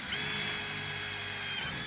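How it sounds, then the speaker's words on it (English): A power drill bores through aluminium angle on a chicken coop build, giving a loud, continuous, high metallic whine for about two seconds with no talking. "And then we drill through the aluminium angle behind it."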